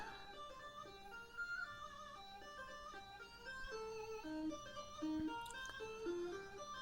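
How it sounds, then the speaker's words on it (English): Chiptune game music from an accelerated Atari 520ST, a bright, bleepy square-wave melody with quick stepping notes over a simple bass line, playing on its own at moderate volume. "Such a fun game, and I love the music for this."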